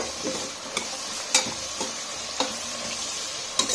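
Thick-cut potato and capsicum pieces fry in a pan for rice, a steady close sizzle broken by a few scraping stirs of a spoon against the pan, with no voices.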